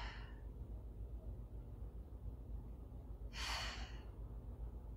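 Slow breathing during a seated yoga stretch, a soft inhale near the start and a louder, clearer breath a little past the middle, alone over a low background hum.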